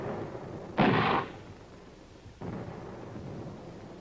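Artillery and mortar fire: one loud, close boom followed about a second and a half later by a softer, more distant blast, set against a low rumbling background.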